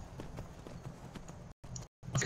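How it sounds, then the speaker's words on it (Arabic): Horse hooves clip-clop steadily in a quick rhythm as a horse is ridden in the video game Skyrim, close and fairly quiet, with two brief dropouts near the end. "وانا راكب على الحصان"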